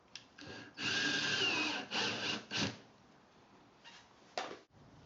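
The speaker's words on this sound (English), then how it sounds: "Drill the center holes as well, making sure nothing has moved." A power drill bores holes through a plastic kitty litter bucket in several short bursts, a whirring grind rising and stopping in quick succession, fairly close and on its own.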